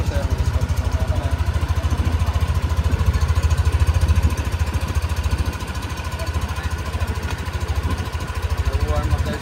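A cold engine on its first start of the morning runs rough, with a steady, loud, rapid chugging pulse and a knocking, jackhammer-like clatter throughout, close to the microphone.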